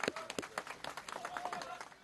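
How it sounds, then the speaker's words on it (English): Scattered clapping and applause from a crowd of onlookers at an earthquake rescue site in Adıyaman, Turkey, as a child is pulled from rubble; brief, uneven claps over a noisy outdoor background. "applause rang out when 10-year-old Betül Edis was pulled out"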